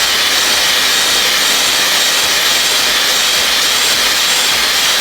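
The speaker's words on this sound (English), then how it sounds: "This hair dryer gets so hot." A Dyson Supersonic hair dryer running at its highest heat and speed setting, a loud, steady airy roar with a bright hiss, held close and unbroken.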